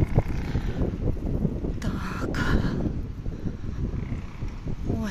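A light breeze rustles through a quiet residential courtyard in a new housing complex, a soft steady wind wash brushing the microphone with a few brief knocks and muffled background voices.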